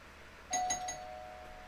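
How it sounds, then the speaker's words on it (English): A doorbell chime sounds in The Silver Case, a 1999 Windows adventure game, with a few quick clear bright tones followed by a faint lingering ring over a quiet background. "Oh, somebody rang his doorbell."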